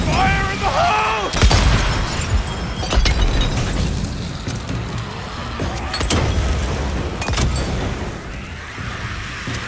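A grenade detonates in the Days Gone video game, a broad loud boom near the start followed by more heavy blasts and rumbling impacts amid chaotic combat noise, with a voice speaking over parts of it.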